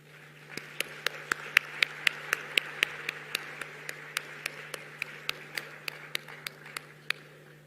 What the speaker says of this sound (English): A warm round of applause there as well